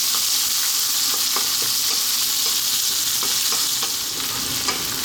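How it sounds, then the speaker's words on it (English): Onion fries in a pan over medium heat for an Arab-style fish biryani, a steady, dense sizzle with faint rhythmic stirring taps and no voices. "Then we're going to add the onion. Above medium heat, about 3 minutes."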